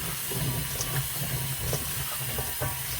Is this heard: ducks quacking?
no